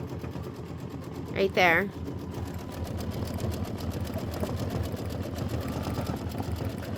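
An embroidery machine stitches a pink outline on a quilt block, giving a steady, fast mechanical hum that runs evenly throughout, with a brief voice speaking near the start.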